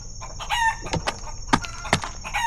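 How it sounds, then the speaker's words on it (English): A chicken crows and clucks in a noisy stretch of overlapping calls, with a steady high whine and other thumps and chatter around it. "There's the biggest chicken ever I've seen."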